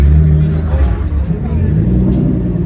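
Loud car engine rumbling and revving at a crowded car meet with GT-Rs and Lamborghini Urus around, a heavy steady low roar filling the scene while people talk nearby.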